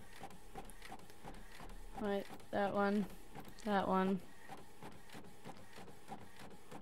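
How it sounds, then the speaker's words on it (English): Printer in an indie video game printing in three short mechanical bursts, each a stuttering, pitched whir, while a person talks quietly over it. "Alright, so let's print it out. Sounds like my exact printer."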